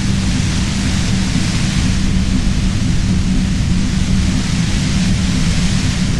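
Loud, even radio white-noise static from Disco Elysium hisses continuously without a break, a dense steady wash with nothing else over it.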